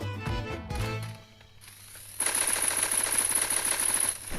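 Rapid automatic gunfire in the mobile shooter game Sausage Man, a loud sustained burst of closely spaced shots following earlier game effects, with no talking.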